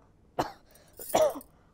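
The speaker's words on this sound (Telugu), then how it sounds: "అగో దగ్గు కూడా వస్తుంది" Two short coughs, the first sharp and the second a rougher throaty bark, separated by a brief pause in an otherwise quiet room.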